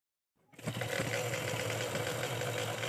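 A sewing machine stitching fabric while attaching a hook-and-eye strip starts up after a brief silence and then runs in a steady, close, buzzing whir that lasts to the end.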